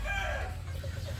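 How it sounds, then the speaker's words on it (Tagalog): A rooster clucking close by, giving a few short, soft throaty clucks over faint low background noise. "Ito naman, ang pinaka-panganay kong tandang."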